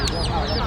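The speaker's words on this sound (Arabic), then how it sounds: "بط يا جماعه اهو صغير" Small ducks at an outdoor bird market on Al-Hair road, with a brief quack rising out of dense crowd chatter and market noise.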